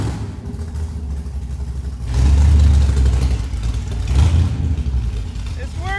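A 1985 Corvette C4 engine in a homemade kart runs with a steady low rumble out on the road, surging louder in two rev bursts amid a noisy background.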